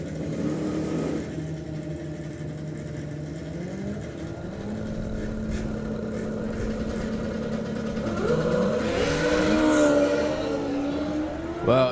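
Drag racing cars launch off the line at the Summer Nationals, engines roaring loud and steady, then climbing sharply in pitch as they rev and pull away near the end.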